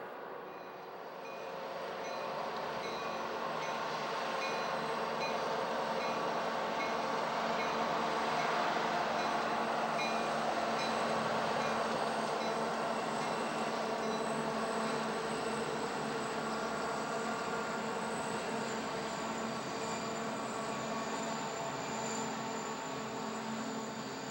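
A Chicago and North Western freight train hauling trailers and containers rumbles steadily through Cajon Pass in 1995, a long, even, fairly distant roar heard from high above with no pauses or voices.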